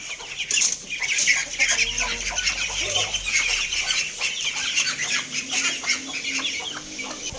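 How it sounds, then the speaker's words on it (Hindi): Several desi chickens cluck and chatter close by, a busy overlapping flock with occasional louder squawks and some wing flutter. "अब हम अपनी देसी मुर्गियों को खोल देते हैं।"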